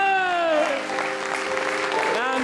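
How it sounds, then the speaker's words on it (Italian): Theatre audience applauding for pianist Attilio Rutta at a concert in Limena, a broad patter of clapping beneath a voice speaking over it through a microphone. "Vi chiedo un bel applauso per Attilio Rutta."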